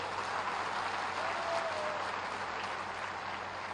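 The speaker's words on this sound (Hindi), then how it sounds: "जोरदार एक बार ताली तो बजवा दीजिए" Sustained applause from a large crowd at an outdoor political rally in Ballia, a dense, even roar of clapping that holds steady throughout at a moderate distance.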